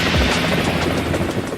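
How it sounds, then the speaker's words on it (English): Pakistani army helicopter gunships thump and roar in a loud, continuous wash of rotor and engine noise with no voices. "Helicopter gunships."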